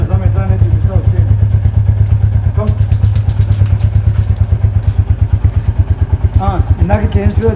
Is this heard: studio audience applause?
no